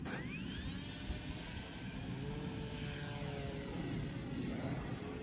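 Steady propeller whine of an electric model airplane on a 4S battery as it climbs after a short takeoff near a forest, a continuous high buzz that slowly shifts in pitch, heard from a distance with no speech.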